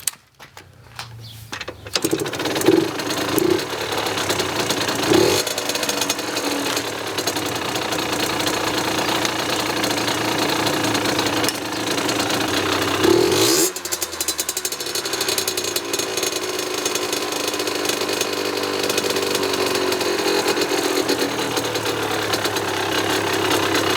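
A 50cc motorcycle engine runs at too high an idle while the carburetor is being adjusted, with a busy, buzzing drone that revs up and then drops back with a sudden change partway through, close and continuous.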